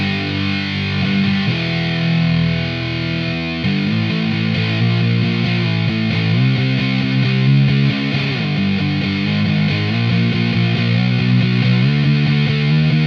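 Electric guitar through a Soundbox Workshop '76 fuzz and harmonic modulator pedal with the fuzz turned fully up, playing thick, saturated riffs and sustained chords continuously and loud, with no talk.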